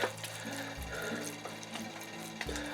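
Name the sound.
watering seeds with water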